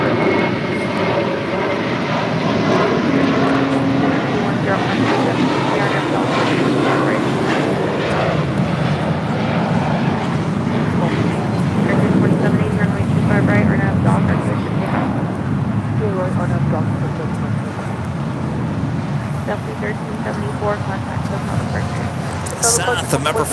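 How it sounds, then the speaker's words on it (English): An Air Tahiti Nui Boeing 787-9 Dreamliner arriving at LAX produces a sustained loud engine roar that swells and slowly shifts as it passes, with people talking over it. "This is Air Tahiti Nui, Flight 7, coming in from Paris on a 787-9 Dreamliner"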